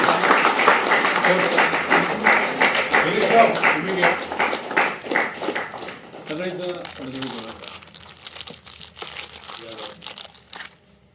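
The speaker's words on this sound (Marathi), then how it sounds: "आपण एकदा जोरदार टाळ्या वाजवूया प्रकाशनासाठी." An audience gives loud, dense applause for a book launch at a Marathi-speaking event on Maratha history, then it thins into scattered claps as a voice begins speaking over it.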